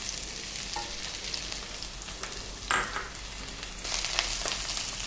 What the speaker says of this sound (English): Now let's add the chopped onions.